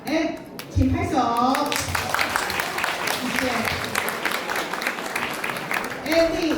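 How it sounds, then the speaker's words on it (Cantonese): An audience at a candidates forum applauds, with scattered clapping that swells and continues beneath a speaker's voice thanking co-hosts. "請拍手"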